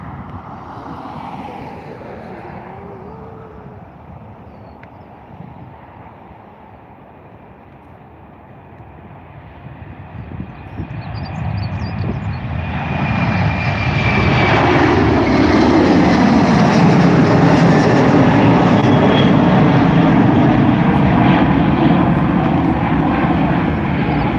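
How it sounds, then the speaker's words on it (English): An Airbus A330 departing Dublin Airport for Miami starts as a distant rumble, then swells into a loud, sustained jet roar that fills the second half as it takes off. "There it is, the A330 heading off to Miami."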